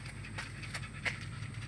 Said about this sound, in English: that's my dog under there making that noise